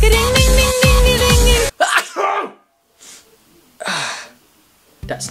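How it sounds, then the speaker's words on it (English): Music stops abruptly, then a sharp sneeze bursts out, followed by a second breathy sneeze-like burst after a short silence, close and loud. "That sneeze, though."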